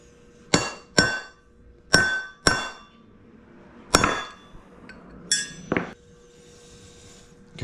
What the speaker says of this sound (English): Should be able to hammer it right down and out.